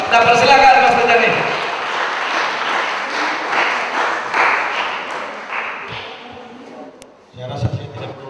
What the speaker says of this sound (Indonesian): Berikan tepuk tangan kemuliaan kepada Tuhan.